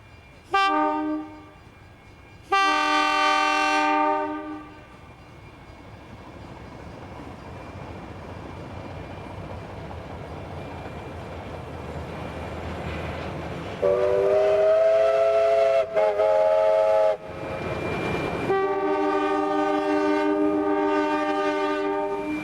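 A train makes a quick stop at Coolomon in country New South Wales, sounding several long, loud horn blasts in separate bursts over a low idling rumble and rolling wheel noise.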